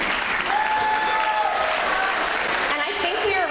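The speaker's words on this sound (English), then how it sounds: "One more round of applause to the judges." An audience at a local pageant-style show gives the judges a round of applause, a dense, loud wash of clapping that holds steady throughout with a few voices mixed in.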